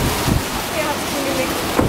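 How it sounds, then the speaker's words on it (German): Strong wind in Holland roars steadily across the microphone for the whole stretch, a broad, gusty rush with no pauses and no talk over it. "Es ist sehr windig hier in Holland."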